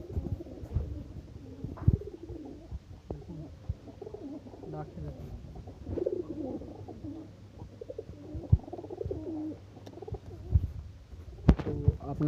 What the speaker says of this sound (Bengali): এই কবুতরটা বাইরে যাওয়ার জন্য করছে।